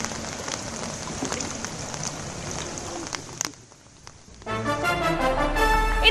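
Heavy monsoon rain in Karnataka pours down as a dense hiss, drops out briefly in a near-silent gap, then returns louder and fuller as a continuous downpour.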